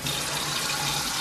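Water runs steadily from a tap to fill a bath for a Chinese crocodile lizard, an even, continuous splashing flow heard up close with no voices.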